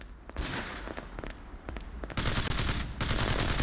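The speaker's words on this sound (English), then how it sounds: "Got gunfire out front. We're pinned down." Rapid bursts of gunfire in the video game Ghost Recon (2001) crackle in dense, sustained volleys, building into heavier continuous shooting toward the end, with no talking.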